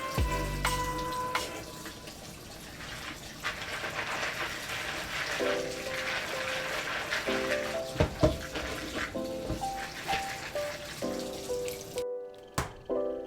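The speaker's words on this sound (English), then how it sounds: "I'm gonna wash this raw peanuts." Raw peanuts being washed under a running tap in a home kitchen: water streaming and splashing into a sink with clattering and knocks as the nuts are handled, a faint tonal hum alongside, ending in a sharp clunk.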